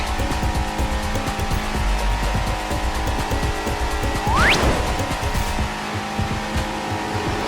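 A car racing with a steady engine drone, then a sharp rising tire squeal partway through, the engine carrying on underneath, moderately loud and with no talk.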